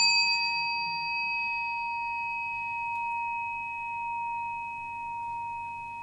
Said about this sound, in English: And you invite the bell to sound.